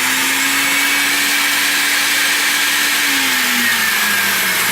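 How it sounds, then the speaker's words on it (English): Vacuum forming machine pulling softened plastic down over a mold in a chocolate bar workshop: a loud, constant hissing suction roar with a steady motor hum that dips slightly near the end, no voices. "I'm going to turn the vacuum on so that it sucks it down."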